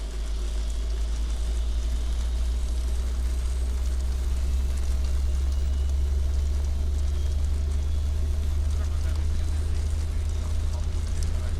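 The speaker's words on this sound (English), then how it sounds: "we're going to ignition, and we'll spool engine number 2" Aerosoft CRJ900 jet engine spooling up in Microsoft Flight Simulator, a steady loud low rumble with a rising whine layered over it, continuous throughout.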